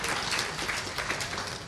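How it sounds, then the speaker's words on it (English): Applause from an audience at a 2016 synagogue dinner, a steady wash of many hands clapping at even loudness for the whole stretch, with no voices over it. "And it really deserves an applause."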